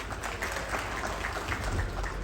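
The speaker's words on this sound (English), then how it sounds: "Round of applause." Audience applause at an evening Mr and Miss East Africa Natural bodybuilding competition, a steady wash of clapping from a crowd heard throughout, moderately loud and even without pauses.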